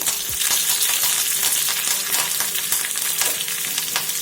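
Curry leaves crackle and sizzle in hot oil with fennel and cumin for onion chutney, a dense, loud, close spitting hiss with some stirring taps and no voices.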